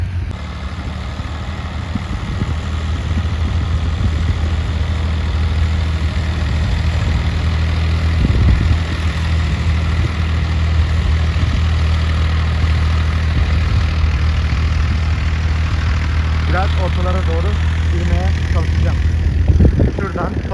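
Two tractors plough a field together, their diesel engines producing a steady low rumbling drone that holds close and loud, with a voice speaking over it at times.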